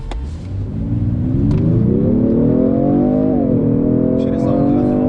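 A Genesis G70 3.3T engine in sport mode accelerates hard, its loud, rising roar climbing steadily in pitch, dipping briefly at a shift, then pulling up again, heard close from inside the cabin.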